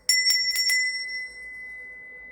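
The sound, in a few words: bell being rung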